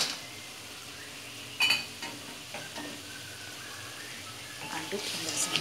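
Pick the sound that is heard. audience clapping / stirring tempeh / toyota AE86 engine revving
stirring tempeh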